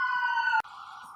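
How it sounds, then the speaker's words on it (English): A passing fire truck or ambulance siren sounds as a steady, tonal wail, heard from a distance and cut by a brief click midway, with no talk. "That was the second fire truck or ambulance in the last 20 minutes"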